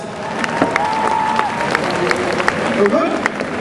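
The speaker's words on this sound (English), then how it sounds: "Give him a big round of applause, guys." Crowd at a cosplay stage show clapping and murmuring, a continuous bed of applause and chatter with scattered sharp claps, while voices talk over it and a few tonal sounds run through the background.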